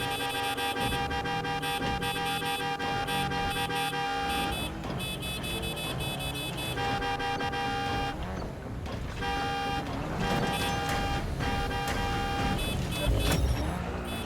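An in-game car is driven through a match of the video game Warzone, its engine droning steadily under a dense, busy mix of game music and effects, with a horn-like toot near the end.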